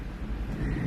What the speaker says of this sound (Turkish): şöyle gök gürültüsünü duyuyorsunuz